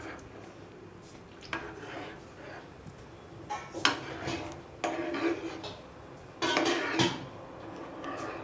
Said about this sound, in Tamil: கலந்து விட்டுட்டே இருக்கலாம்.